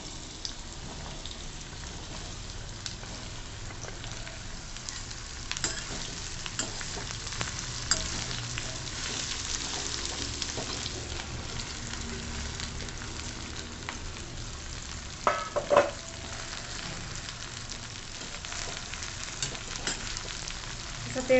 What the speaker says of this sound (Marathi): असं तेलावर परतवून घ्यायचं